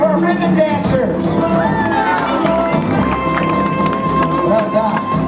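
Crowd cheers and shouts for ribbon dancers at a Disneyland Lunar New Year parade in a plaza, loud and continuous with music, children's voices and general chatter mixed in.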